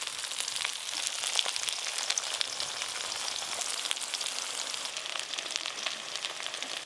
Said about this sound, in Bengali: একদম ছাঁকা তেলে ভাজবো, তাই আর একটু তেল দেব।